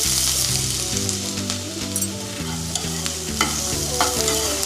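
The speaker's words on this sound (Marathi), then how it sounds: "आता त्यात थोडं तेल घालून घेऊया आपण कांदा घालून घेऊया" Onion frying in oil in a hot wok for a Maharashtrian black pea usal gives a dense, continuous sizzle with small crackles and pops, close and steady, without any speech.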